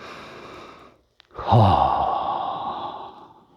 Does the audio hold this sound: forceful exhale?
yes